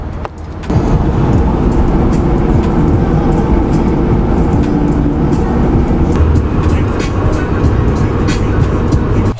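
Interior roar of a drift car setting off down the road, a loud steady engine and tire drone that kicks in abruptly after a quieter opening second and holds constant, with faint clicks over it.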